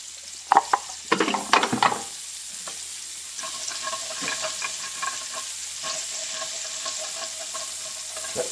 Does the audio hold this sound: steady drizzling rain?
no